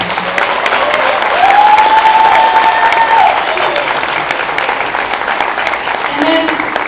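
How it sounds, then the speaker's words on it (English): Audience applause for a comedian fills the room, steady clapping from a crowd that swells slightly mid-way and holds at a lively level, with a whistle-like tone rising briefly above it. "please give David a round of applause for this"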